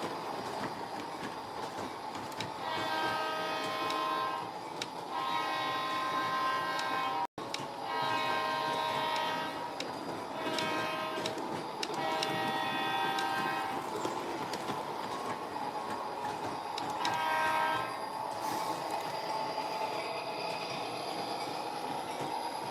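HO and G gauge model trains run, including locomotive 3329, with a continuous rolling rumble of wheels on track and repeated bursts of a horn sounding in clusters, close and fairly loud throughout.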